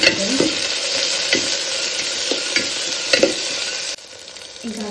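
Ingredients fry and sizzle in a pan while preparing a North Karnataka dish with tomatoes and coriander, a steady close sizzle broken by repeated stirring scrapes.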